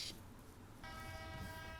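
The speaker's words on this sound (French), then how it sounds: "Ce coup de sifflet qui retentit à la gare ferroviaire de Bamako" A shrill, steady train whistle sounds out after a brief pause at Bamako railway station, loud and sustained over the low rumble of a busy station.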